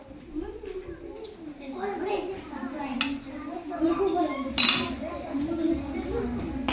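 Metal spoons clink and clatter in scattered bursts during a children's game, while several people talk and chatter over them.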